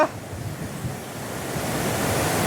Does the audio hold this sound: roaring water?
yes